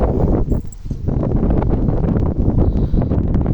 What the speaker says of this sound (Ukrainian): Трохи вітряно сьогодні.